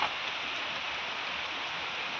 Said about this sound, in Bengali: মুসুলধারা বৃষ্টি নামিছে